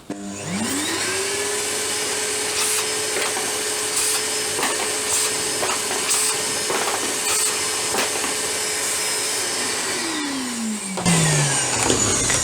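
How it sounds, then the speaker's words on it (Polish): An Evolution R15VAC corded wet/dry vacuum cleaner spins up gently through a soft start to a steady, loud whine, with scattered rattles and clicks as debris is sucked in, then winds down at the end. "odkurzacz ma taki jakby ala soft start. Wolniej się troszeczkę rozpędza."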